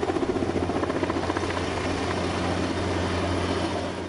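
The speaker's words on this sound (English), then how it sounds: "the most cost-effective way to move roofing materials from the ground to the surface of the roof is by chopper" A helicopter lifts roofing materials onto the roof of Ford Field stadium, its rotor chopping in a loud, steady rhythmic thrum with a deep engine drone and no voices.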